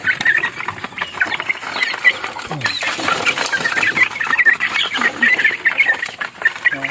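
A crowd of chicks feeding in a brooder, a dense, continuous chorus of high peeping and chirping close by, with soft pecking and scratching of feed underneath.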